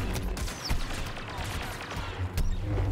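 Rapid blaster gunfire and impacts from the video game Star Wars Battlefront 2 form a dense, continuous barrage of cracks and bursts throughout the short stretch.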